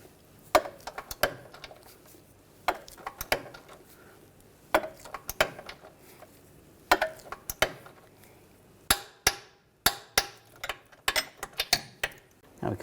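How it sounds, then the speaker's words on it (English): Tightening a rear upper control arm bolt on a 2006–2010 BMW 550i to 73 foot-pounds: a scattered series of sharp metallic ratcheting clicks and clanks in short bursts, fairly close, with quieter handling noise between. "we're going to torque this to 73 foot-pounds"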